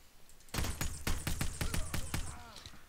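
Rapid gunfire in the Hitman: Blood Money video game, a burst of about ten sharp shots in quick succession that starts abruptly and fades into a brief trailing echo, loud and with no voices over it.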